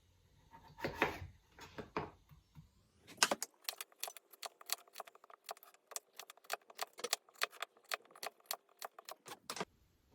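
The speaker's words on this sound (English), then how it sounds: "now we're going to slice it in about half-inch slices" A knife slices delicata squash into half-inch rounds on a cutting board. After a few softer handling knocks comes a quick run of about twenty crisp, close taps in a brisk, fairly even rhythm.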